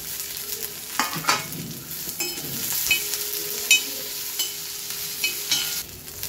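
Cumin seeds and garlic cloves fry in hot oil in a pan for rustic village-style thecha, a steady crackling sizzle with sharp popping bursts scattered throughout, close and moderately loud, with no voices.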